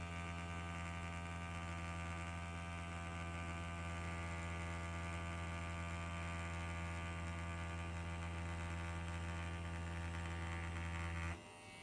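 A Wormhole Pro Aquila tattoo machine runs steadily at a 3.9 stroke with a 7-round liner, giving a loud, even electric buzz that holds without a break for about eleven seconds before cutting off at the end.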